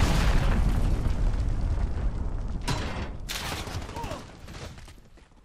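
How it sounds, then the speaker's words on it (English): A cruise missile strike in Call of Duty Modern Warfare team deathmatch: loud, rolling blasts and rumbling bursts merge into a sustained barrage, then fade slightly toward the end. "Allied cruise missile."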